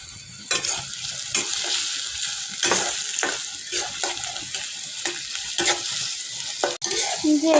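Onions frying in oil in a pan with a bright, continuous hiss and repeated spatula scrapes, close and fairly loud, with no voices.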